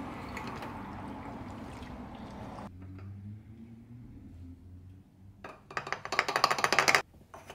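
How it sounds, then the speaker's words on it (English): Engine flush glugs and pours from a bottle into the oil fill of a Ram 1500 EcoDiesel truck, a close liquid pour that quiets midway and then surges in gurgling bursts near the end. "We're gonna take this whole bottle, we're gonna dump it into the oil fill area."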